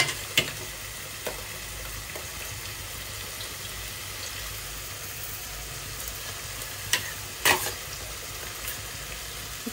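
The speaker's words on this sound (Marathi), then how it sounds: "आता मी याच्यामध्ये जे मी हळद मीठ लावून कोळंबी ठेवलेली आहे तर मी त्यात ते घालते" Prawns coated with turmeric and salt fry steadily in roasted masala, giving a continuous soft sizzle with a few sharp crackles and spatters, heard close with no talking.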